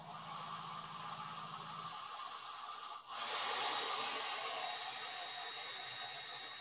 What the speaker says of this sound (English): I'm gonna hit with the blow dryer yet again